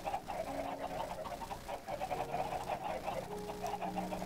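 Many chickens spawned into a video game chicken farm cluck and squawk continuously in an overlapping, steady chorus, with no talking.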